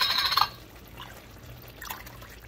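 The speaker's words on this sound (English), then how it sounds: "I'm going to put a little bit more vegetable broth in here, like halfway." Vegetable broth is poured into a pot at home, a close liquid gush at the start that quickly settles into a faint trickle.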